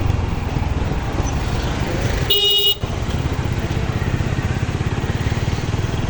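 A 125 cc motorcycle ridden on a road without a helmet gives a steady close engine rumble, broken by one short horn honk partway through.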